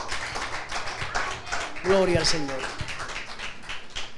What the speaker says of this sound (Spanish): ¿Cuánto dan un aplauso al Señor?